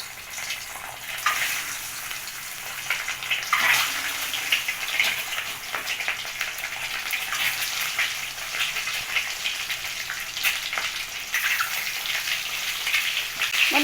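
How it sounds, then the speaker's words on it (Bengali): Eggs coated in salt and turmeric frying in hot oil, a steady loud crackling sizzle that holds through the whole stretch with dense spattering pops and no talking. "তেল গরম হয়ে গেছে, তেলে ছেড়ে দেব।"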